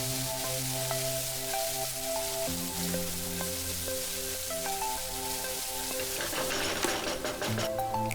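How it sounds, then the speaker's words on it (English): Chopped tomato fries in a pan for a cauliflower masala, giving a steady, soft crackling sizzle with scattered pops over a background of sustained music. "Then add 1 tomato chopped and fry it until the tomatoes are soft"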